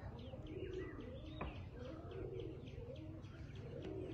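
White Teddy and KTM Pakistani cross-breed pigeons coo and chirp in repeated soft bursts, with a low steady hum underneath, fairly quiet and close.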